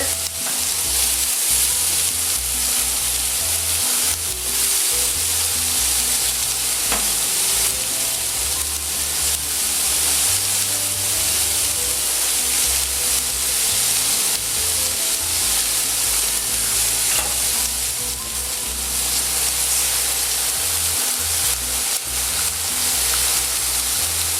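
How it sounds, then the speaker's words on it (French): Pineapple sautéing in a pan over moderate heat, giving a steady, close, dense sizzle and frying hiss that runs without a break for the whole stretch, with faint stirring and no talking. "ce que je vais faire revenir l'ananas sur le côté"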